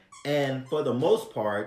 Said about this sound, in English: that's my dog squeaking in the background